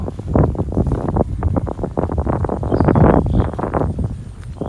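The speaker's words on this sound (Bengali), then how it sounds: "বাতাস, প্রচণ্ড বাতাস, খুবই ঠান্ডা পরিবেশ।" Strong wind buffets the microphone beside a small village river, a loud, close, gusty roar of low rumbling bursts that rises and falls without pause.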